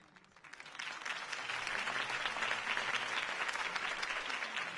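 A crowd bursts into sustained applause after Harvey Dent's campaign speech in the Batman Telltale video game, swelling from a quieter start into dense, steady clapping that fills the scene.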